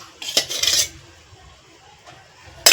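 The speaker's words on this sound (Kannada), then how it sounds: "ಒಂದು ಪಾತ್ರೆ ಇಟ್ಕೊಂಡಿದ್ದೀನಿ ಅದಕ್ಕೊಂದು ಎರಡು ಸ್ಪೂನು ಎಣ್ಣೆ ಹಾಕ್ಕೊಳ್ತಾ ಇದ್ದೀನಿ" A spoon clinks and scrapes against a pan on a gas stove while oil is spooned in: a short cluster of bright metallic knocks, a quiet stretch, then another sharp clink at the end.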